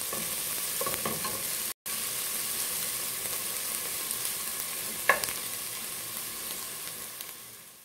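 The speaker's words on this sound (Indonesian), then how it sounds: "Tumis sampai bawangnya coklat-coklatan." Onions sautéing in a pan for a macaroni and ground beef dish give a steady, close sizzle and crackle throughout, with a short dropout partway and a brief sharp stir or clink near the end; no one speaks.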